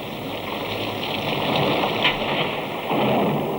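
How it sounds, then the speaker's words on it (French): Rain falls on a Chinese junk at sea, a steady, dense hiss of drops with a low rumble beneath, swelling slightly louder near the end and heard alone without voices. "de la pluie."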